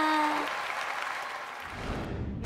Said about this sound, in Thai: ขอเสียงปรบมือ